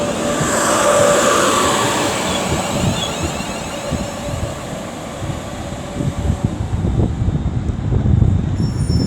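A train runs along the platform at Liverpool South Parkway station on the West Coast Main Line, giving a steady rumbling roar with rattling wheel noise that holds the whole time, fairly loud and close, with no talk.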